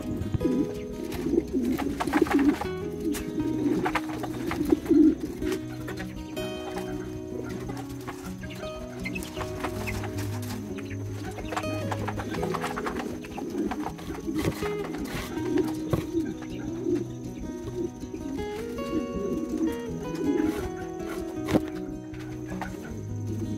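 Mondain and Dutch King pigeons cooing in a loft, repeated low throaty coos from several birds overlapping at close range, with some clucking and rustling and no talk.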